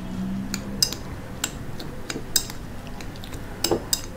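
Light clinks and taps of a spoon against a bowl while shredded cabbage is stirred into egg batter, irregular scattered strikes over quiet kitchen background.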